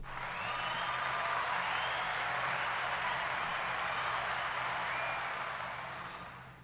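A crowd applauds steadily at a Detroit Lions news gathering, a dense continuous wash of clapping that holds evenly for several seconds before tapering off at the end.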